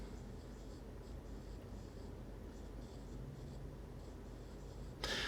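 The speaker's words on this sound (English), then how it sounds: "I'm just going to write down something here. I'll just write down LG Stylo." A stylus glides across the screen of an LG Stylo 3 Plus phone in soft, intermittent scratchy strokes, faint and close, with short pauses between strokes and a louder brush at the end.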